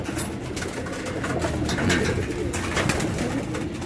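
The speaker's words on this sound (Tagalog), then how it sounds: "Paring Ekoy, itong ibon mo, ang ganda" Pigeons coo softly in a steady, overlapping murmur, with a low rumbling background throughout.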